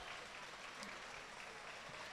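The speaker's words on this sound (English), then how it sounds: "they give a big round of applause to the crowd, and rightly so" A crowd applauds at the women's third-place match between Italy and Northern Ireland, with steady, continuous clapping that sounds rather distant and soft.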